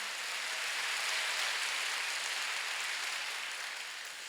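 A church congregation applauding during a Sunday worship service. A steady wash of many hands clapping at once is heard alone, holding level before fading slightly at the end.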